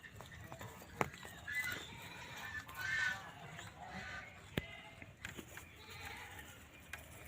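Two young goat kids of the Totapuri breed bleat a few times, fairly faint and scattered among soft farmyard noise and rustling.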